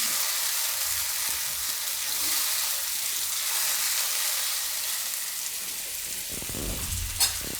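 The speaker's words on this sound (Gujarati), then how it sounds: "આ રીતે લસણનો વઘાર કરીએ" Garlic tempering sizzles in a pan for tomato curry, a loud continuous hissing fry close by, with a few soft stirring knocks near the end and no talking.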